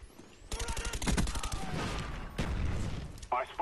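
Rapid bursts of Galil assault rifle fire in an online first-person shooter game, loud and close, with sustained automatic volleys and a brief pause before a final burst, a voice faintly underneath.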